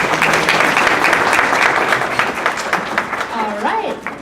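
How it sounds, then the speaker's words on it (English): Applause from the audience at a luau-themed music recital, a dense wash of clapping, with a voice and some tonal sounds coming in near the end. "give a big round of applause"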